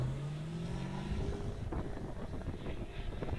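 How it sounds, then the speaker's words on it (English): A manual-shift 1999 Pontiac Trans Am accelerates down a drag strip, its engine pitch climbing then dropping at a gear change before rising again, heard at a distance under wind noise. "Manual shift car sounds good."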